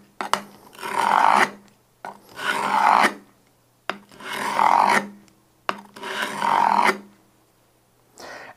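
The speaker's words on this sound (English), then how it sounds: "draw the blade along and rotate it so that we're rounding over that corner" A Veritas bevel-down bench plane blade is drawn along a sharpening surface to round over its corner, giving four long rasping strokes in steady rhythm, close and fairly loud, with short pauses between and no talk.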